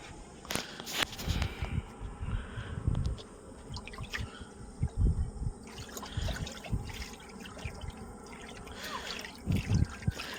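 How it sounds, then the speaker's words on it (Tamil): Faint sipping and gulping of drinking water, with soft splashes and drips scattered irregularly against a quiet outdoor background. "நம்ம தண்ணி குடிப்போம்."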